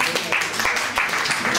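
An audience at a Schlager revue claps for a nun singer as she is introduced on stage, the clapping running under loud spoken announcement and lively stage sound.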